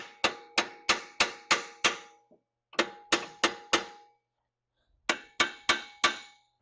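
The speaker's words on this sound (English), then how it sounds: "A little whack with the hammer" Sharp metallic hammer blows ring out in three quick bursts of four to six strikes each, with short pauses between the groups, striking a bound-up suspension part during a coilover swap on a Volkswagen Jetta TDI.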